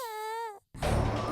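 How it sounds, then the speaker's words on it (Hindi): In a supernatural Hindi TV drama, a wailing voice holds a long, slightly wavering cry, breaks off into a moment of silence, then gives way to loud rough noise. "इस रोने की आवाज का पता लगाना होगा"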